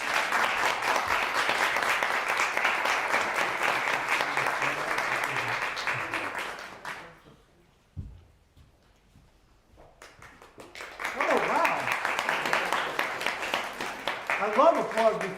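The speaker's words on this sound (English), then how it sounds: "I love applause before I even read anything" A room applauds at a poetry reading, steady clapping that fades out into near silence, then swells again into a second round with voices talking over it near the end.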